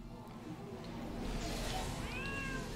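A person's voice imitates a cat's meow during a relaxed online gaming session, a short rising-and-falling mew near the end over a steady background hum and low chatter.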